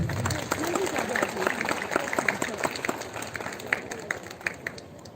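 An audience at a school foundation day event claps for a guest, giving scattered, uneven applause with individual claps standing out, and a voice briefly heard at the start.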